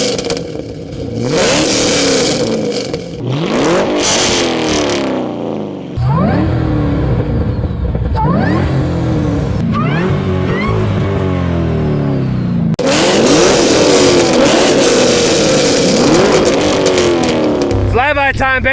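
A fifth-generation Camaro ZL1 and a second-generation Cadillac CTS-V, one fitted with long-tube headers, a cold air intake and an MPP exhaust, rev loudly and close by in repeated aggressive bursts, with speech over the engines.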